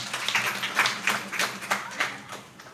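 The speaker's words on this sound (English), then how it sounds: "Let's give her a clap." Scattered clapping from a small seminar audience at a drug sensitization event, a few distinct claps in an uneven rhythm heard at moderate distance for a couple of seconds.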